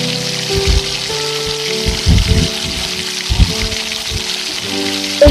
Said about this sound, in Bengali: এবারে আমি ভেজিটেবলস গুলো খুব ভালো করে ফ্রাই করে নেব।